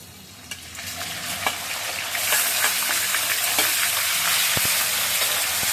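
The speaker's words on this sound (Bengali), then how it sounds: "আলু যখন ভাজা হয়ে গেছে, এবার আমি কি করবো, বেগুনগুলো ছেড়ে দিব।" Eggplant pieces go into a pan of frying potatoes, setting off a loud, steady sizzle that grows after a couple of seconds, with scraping and stirring taps close by.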